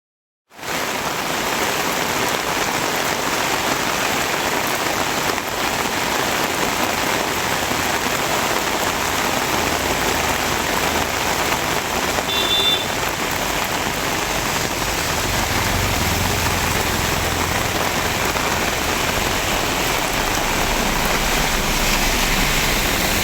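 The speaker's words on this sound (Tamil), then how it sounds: "செங்கல்பட்டு மாவட்டம் திருப்போரூர் சுற்றுவட்டார பகுதிகளில் தற்போது கனமழை பெய்து வருகிறது." Heavy monsoon rain pours down steadily around Tiruporur in Chengalpattu district near Chennai, a loud, dense, unbroken hiss with no voices, holding the same level throughout.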